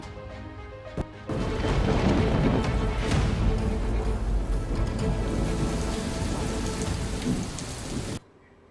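Heavy monsoon rain in Gujarat pouring steadily on a surface with a low rumble, starting abruptly after a brief quiet moment and stopping suddenly near the end.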